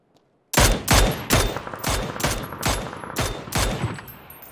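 About nine sharp gunshots from the video game PUBG ring out at a steady rhythm after a brief silence, each one loud and close with a short echoing tail.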